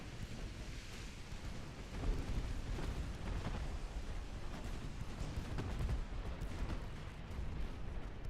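Heavy booming explosions from torpedo hits on a warship in a naval video game, a continuous dense rumble of blasts and battle noise with a few louder swells, no talk.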